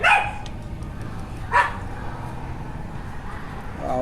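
Dogs barking at a shooting range, with a couple of short, sharp yelps and barks in the distance over a steady low background rumble; one or two faint voices.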